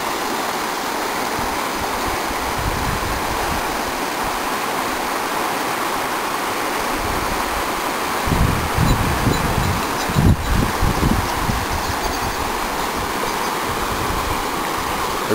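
River rushing past a cabin's sleeping porch, a steady broadband wash of flowing water with no talking, swelling slightly in the second half.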